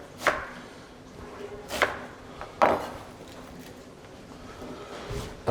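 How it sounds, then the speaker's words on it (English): A knife roughly chops an onion on a board, giving three or four sharp, evenly spaced thuds with quiet pauses between them, close and distinct. "so just a rough chop on the onion"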